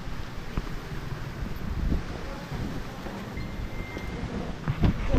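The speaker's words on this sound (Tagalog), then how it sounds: "Ang lakas ng hangin." Strong typhoon wind roars and buffets the microphone continuously, with low gusty rumbling and no voices.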